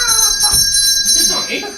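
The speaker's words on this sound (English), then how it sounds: "The bell is ringing at this hour." Bell ringing on stage during an amateur Irish drama production, a few quick rings close by, with actors' voices talking over it throughout.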